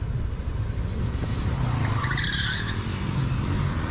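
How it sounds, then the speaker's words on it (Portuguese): A motorcycle drifts with a continuous tire skid and squeal over steady engine noise, loud and sustained throughout without talk. "olha o drift da moto desse cara"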